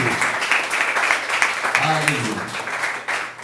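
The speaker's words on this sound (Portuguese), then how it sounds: "Uma salva de palmas para Jesus." A church congregation breaks into broad, sustained applause that fills the room, with voices calling out and talking over the clapping.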